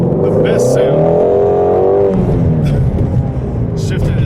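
A Ford Shelby Mustang GT350R flat-plane engine revs hard and loud from inside the car, its pitch sweeping up and settling as it shifts, with people talking over it.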